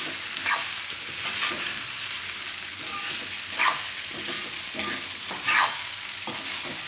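Poha and green chickpeas are stirred together in a pan with a soft sizzle underneath, broken by a few sharper scraping strokes of the spoon against the pan, close and moderately loud, with no talk.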